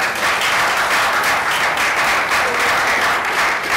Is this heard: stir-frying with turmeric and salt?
no